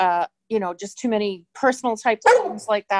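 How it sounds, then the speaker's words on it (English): A dog barks in short yips beneath continuous conversational speech, close by and intermittent. "That's my dog."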